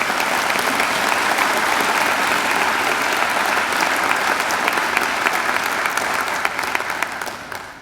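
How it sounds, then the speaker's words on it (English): A large audience applauds at a Macquarie University graduation ceremony in April 2015, a loud, dense and steady wash of clapping that tapers off near the end. "I think Stephanie deserves another great round of applause."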